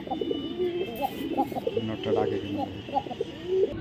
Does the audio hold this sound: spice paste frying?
no